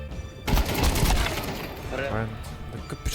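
Rapid bursts of gunfire crackle continuously in Counter-Strike 2, with a voice talking in Ukrainian over the shooting.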